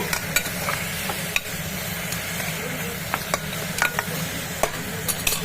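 Mutton curry spices and turmeric being stirred in a pot, a continuous low sizzle with irregular scraping and clinking strokes of a spoon against the metal, steady and close throughout.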